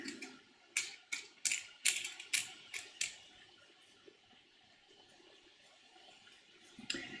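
Wing nuts with a washer are tightened onto a glued screw, giving a run of about seven sharp, close ratcheting clicks in quick succession, then quiet handling and one last click.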